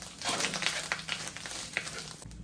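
Smoked fish (tinapa) sautéing in a pan for a mung bean dish, giving a steady close sizzle and crackle with small spattering pops throughout.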